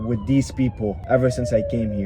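A police siren whines continuously in the background, its pitch sliding slightly, while someone speaks over it.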